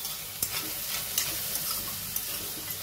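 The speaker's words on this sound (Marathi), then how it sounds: "असं मध्ये मध्ये हलवत 1-2 ते 4 मिनिटांमध्ये हा दुधाचा खीस व्यवस्थित शिजतो. एकदा हलवून घेऊया." Grated milk khees cooking in a heavy-bottomed pan over low heat, stirred with a spoon that scrapes and knocks the pan a few times over a soft, steady sizzle.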